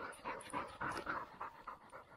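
A hunting dog pants in quick rhythmic bursts close by, outdoors, with no talk over it.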